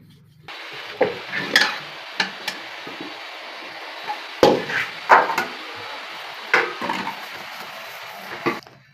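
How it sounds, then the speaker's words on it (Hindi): Breakfast dishes being washed in a Pakistani village home, with intermittent clattering knocks and scraping of utensils at close range, scattered bursts over a steady background hiss. "इधर हमारे बर्तन साफ हो रहे हैं सुबह के नाश्ते के"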